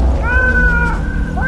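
A cat meows in the horror game Garten of Banban 5, a single loud drawn-out mewl lasting over a second, heard close and alone over a low rumbling background.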